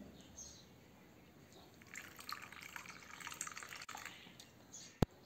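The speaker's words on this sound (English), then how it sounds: "Add a cup of lukewarm water." Lukewarm water poured into a small bowl of yeast, a faint trickling and splashing pour that builds midway, ending with a sharp click, quiet and close.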